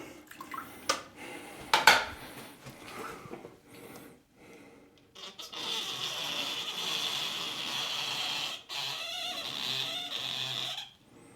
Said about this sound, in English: dampen the squeegee again